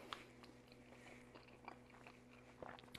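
Close, quiet chewing of a big mouthful of Thanksgiving leftovers crescent ring dipped in gravy, with soft crunchy bites and wet mastication sounds spread across a few seconds.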